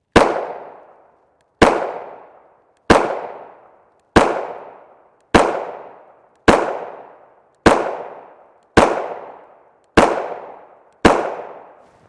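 A Glock 19 Gen 4 MOS pistol with a 4-inch barrel fires 9x19mm 115 grain FMJ Turan rounds, ten sharp evenly spaced shots about 1.2 seconds apart, each with a short decaying ring and no talk.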